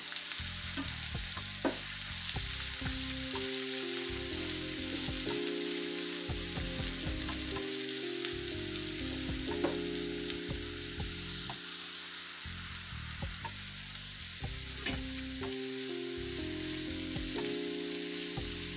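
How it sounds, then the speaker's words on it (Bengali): Sliced onions fry lightly in hot oil in a pan for an egg korma, a steady close sizzle that runs throughout over faint background music, with no talking. "এখন পেঁয়াজগুলো আমি হালকা একটু ভেজে নেব"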